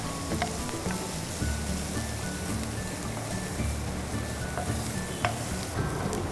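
Onions frying in chili oil for chilli garlic noodles, giving a steady close sizzle and crackle with occasional stirring scrapes, and no talk over it.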